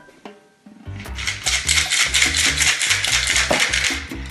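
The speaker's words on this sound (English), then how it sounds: "we're going to just put some fresh crushed ice in here" Fresh crushed ice tumbles into a cocktail shaker, a dense rattling clatter of ice against metal after a quiet start, loud and close, continuing in rapid uneven bursts.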